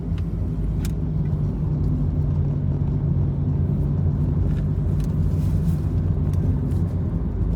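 Car driving on a road, heard from inside the cabin: a steady low engine and tire rumble with constant road noise and occasional small rattles, continuous and moderately loud without speech.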